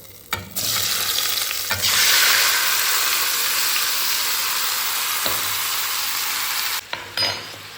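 Fennel and biryani spices fry in a little oil, giving a loud, dense hiss of sizzling that starts abruptly and holds steady for several seconds before cutting off near the end.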